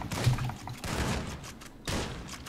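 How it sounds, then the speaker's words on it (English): Bursts of rapid gunfire in GTA 5 multiplayer, several sharp volleys crackling over a busy background, fairly loud and close with brief gaps between bursts. "someone shooting against me"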